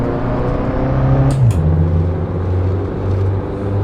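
Formula 1 car engine in the Assetto Corsa racing game at the Goodwood Festival of Speed, a loud steady high-revving drone with a quick gear shift midway, with no talking.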